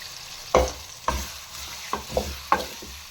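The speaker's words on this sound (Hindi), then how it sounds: "प्याजों को हल्का ब्राउन होने देते हैं" Onions frying in a couple of spoons of oil in a pan for aloo gobi, with a steady close sizzle broken by four or five sharp stirring scrapes of a spoon, no voices.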